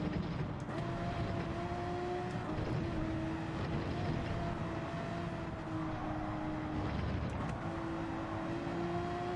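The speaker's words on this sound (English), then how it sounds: "Just hear the tyres squealing a hell of a lot more" Porsche race car in the Gran Turismo video game, its tyres squealing through corners over a constant loud engine roar, with rising and falling tonal whines for the whole stretch.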